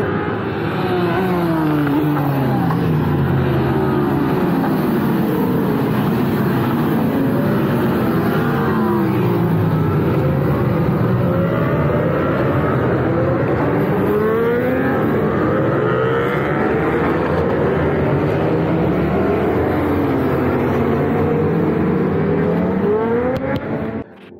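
Racing motorcycles in the 6 Hours endurance race at Spa-Francorchamps scream past just before the first turn, loud continuous overlapping engine roars with rising and falling pitch sweeps as bikes pass one after another.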